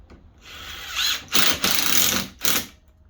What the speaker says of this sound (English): This is a Dewalt 18-volt drill.